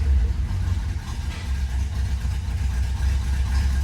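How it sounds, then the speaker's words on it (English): A 1965 Chevrolet Impala engine, cold-started, settles into a steady low rumbling idle close by, with a slight rough pulse and no voices. "All right, we'll go ahead and fire her up. It's a cold start. I'm gonna give her a little bit of gas."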